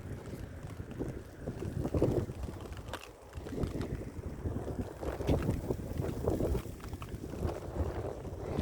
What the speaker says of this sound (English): This wind is testing my patience with me